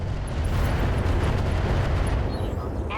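A turret blows up in the BattleTech mech combat game, a dense, rumbling explosion roar that fills the whole moment at steady loudness and then tails off slightly.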